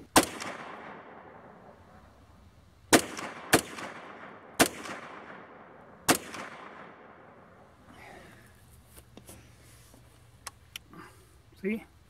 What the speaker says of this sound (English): So I shot five times and I found one piece of brass.